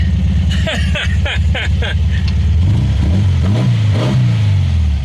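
A 1974 VW Beetle air-cooled engine with a Solex carburetor cranks with rapid starter pulses, then catches and settles into a loud, uneven idle with a few revs, close by, with a person talking over it.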